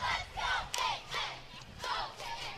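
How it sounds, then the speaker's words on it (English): A distant crowd lining a Halloween parade route in Anoka, Minnesota cheers and yells in rolling waves of voices, fairly faint and continuous throughout. "Given a cheer."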